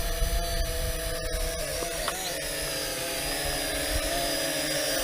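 A Potensic D58 GPS drone lifts off in auto takeoff, its motors and propellers giving a steady, loud, continuous whine and hum that wavers slightly in pitch, with no speech over it.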